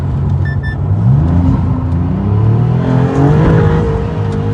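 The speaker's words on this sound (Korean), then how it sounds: "뒤쪽에서 들려오는 그 엔진의 배기음이랑 그리고 그 엔진음이 굉장히 좀 자극을 줍니다" Rear-mounted 3.0L V6 Nettuno engine and exhaust of a Maserati MC20 Cielo while driving, a loud sustained engine note with rising and shifting pitch heard from inside the cabin, with no talking.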